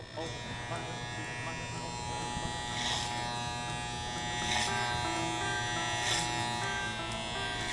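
Electric hair clippers buzzing steadily while cutting hair clipper-over-comb at a barbershop, a continuous close hum with periodic bursts as the blades bite into hair.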